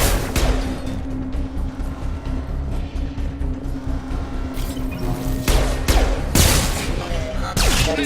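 Gunfire in the video game Mass Effect, a sustained barrage of shots and booms over a rumbling bed, with several sharp louder blasts near the end and no talking.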